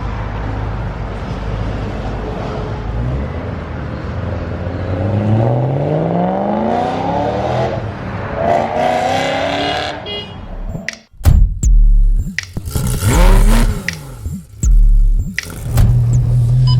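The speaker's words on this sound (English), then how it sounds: "It doesn't sound like a BMW. So cool. Sounds like a Corvette." A Honda S2000 engine revs up in rising, climbing sweeps, pulling higher through several surges before a few sharp thunks and then uneven rumbling revs, fairly close and unaccompanied.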